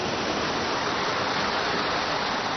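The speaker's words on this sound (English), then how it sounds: "now we see one that is spun by water power" Running water drives a water-powered prayer wheel, giving a steady, even rush of flowing water heard close and alone, without voices.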